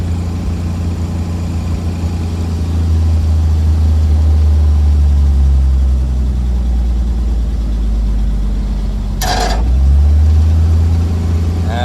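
A 1950 Chevrolet 4400 dump truck engine runs steadily with a deep, close low rumble, its note shifting as the clutch is eased out while in neutral, with a brief sharp mechanical noise near the end.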